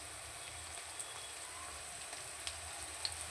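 Onions sauté with salt in a pan, giving a faint, steady sizzle with a few small crackling pops and no voices.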